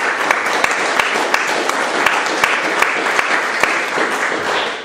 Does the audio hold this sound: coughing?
no